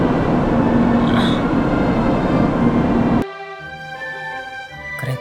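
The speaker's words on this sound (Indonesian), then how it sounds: "Kereta cepat atau Shinkansen ini terdiri dari 16 gerbong." Japanese Shinkansen high-speed train of 16 cars at a station platform, a loud steady rushing roar of the passing train that cuts off abruptly partway, leaving quieter station hum and tonal chimes.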